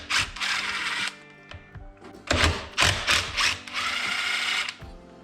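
Ratchet spinning out 10 mm bolts on a jon boat side console, with several bursts of clicking and whirring broken by short pauses, close and fairly loud, no talk.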